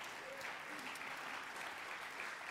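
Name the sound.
church congregation acclaiming Jesus with applause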